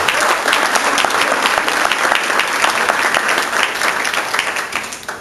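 An audience at a Lincoln Day luncheon gives a loud, sustained round of applause, dense clapping filling the room evenly from start to finish.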